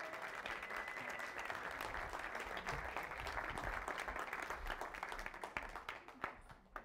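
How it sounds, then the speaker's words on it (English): A church congregation applauds steadily for a young intern, a dense, sustained round of clapping filling the room at moderate distance before starting to thin out at the end. "So can we give Jess a round of applause?"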